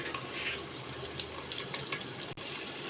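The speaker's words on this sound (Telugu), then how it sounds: "ఉల్లిపాయలు వేగుతున్నాయండి." Onions fry in a pan while poha upma is being made, giving a faint, continuous hiss and sizzle with small crackles throughout.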